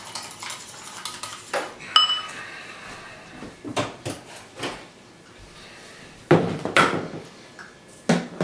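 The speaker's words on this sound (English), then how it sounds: "it's about a tablespoon of flour we're adding. You have to mix it in there fairly well." A metal utensil mixes about a tablespoon of flour into a tuna, Swiss cheese and garlic omelette filling, giving intermittent clinks and scrapes against a dish with short quiet gaps.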